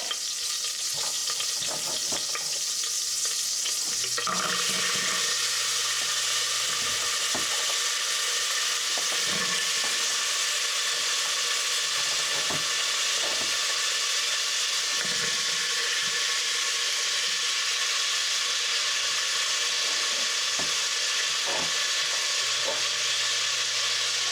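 Chopped onions, celery and carrots sizzle steadily in hamburger meat drippings for hamburger soup, a continuous bright hiss with occasional soft stirring knocks and scrapes, close and fairly loud, no talking.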